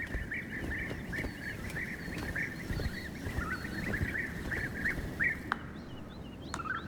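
Birds at nesting tunnels dug into sandy slopes, a steady stream of chattering calls at moderate distance over a rough, noisy background, with no talking.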